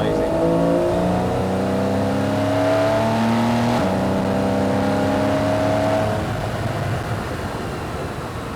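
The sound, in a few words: Porsche 911 Carrera S engine revving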